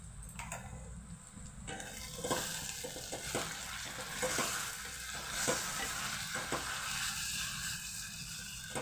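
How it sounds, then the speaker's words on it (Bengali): Onions frying with ginger garlic paste in a pan for a catla fish stew, a steady close sizzle broken by repeated scraping strokes of a spoon stirring through the mixture. "এটা আদা রসুনের সঙ্গেই ভালোভাবে আমি কষিয়ে নেব পেঁয়াজটার সাথে আদা রসুনের সঙ্গে"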